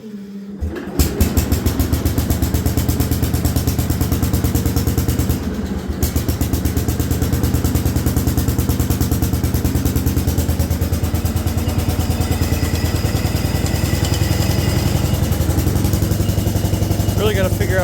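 An Allis Chalmers garden tractor engine cranks and catches after a short clatter, then runs with a loud, steady, rapidly pulsing mid-pitched idle close by, with a brief dip midway.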